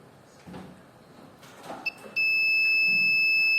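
After some faint handling noise, a brief electronic beep chirps from a buzzer wired to a microcontroller, then a continuous high buzzer tone starts and holds steadily to the end.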